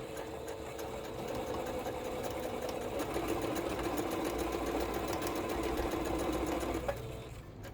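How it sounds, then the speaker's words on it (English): A sewing machine stitches triangle pieces of a Union Star quilt block, running with a steady, fast mechanical whir and rhythmic needle clatter at close range, then stopping near the end, with no talking. "Gently place my presser foot down and continue sewing."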